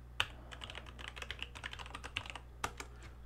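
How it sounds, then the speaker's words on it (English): Keys clatter on a computer keyboard in a quick, uneven run of close, crisp taps, with a few sharper strikes standing out against a low steady hum. "So we just type in our domain there."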